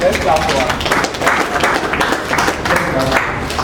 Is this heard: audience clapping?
yes